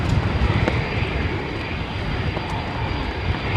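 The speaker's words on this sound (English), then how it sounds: "Emirates 777 east to west to Dublin now" An Emirates Boeing 777 flies overhead, a steady broad engine roar that holds level and fairly loud throughout.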